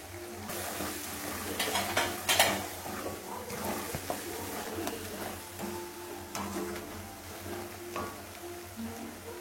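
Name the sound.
sautéing garlic and Kashmiri chili powder in a pan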